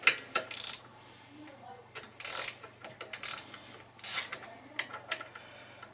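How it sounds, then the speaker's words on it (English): T30 Torx driver working bolts loose on a BMW R1200GS Adventure motorcycle, with scattered metallic rubs, ratcheting clicks and scraping bursts close by over a low steady hum, no talking. "Get your T30 out and take these two bolts out."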